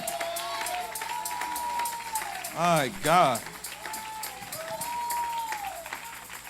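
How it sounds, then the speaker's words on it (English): A church congregation claps during a worship service, with steady rhythmic clapping under a sustained tone and a preacher's loud, emphatic voice rising over it midway. "Come on, clap your hands unto the Lord."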